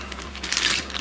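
Close crinkling of a plastic bag of model gun parts, a short rustling burst of a second or so that grows louder toward the end.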